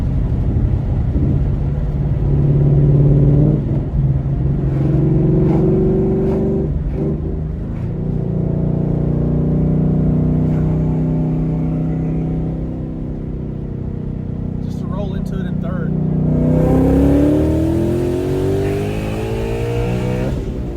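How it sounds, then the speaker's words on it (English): A supercharged car engine with a Corsa Extreme exhaust revs and rises in pitch, then settles into a deep exhaust rumble, with another surge of acceleration near the end; loud and close. "the car's got a little bit of a rumble to it"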